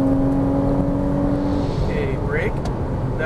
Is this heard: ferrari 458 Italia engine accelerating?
yes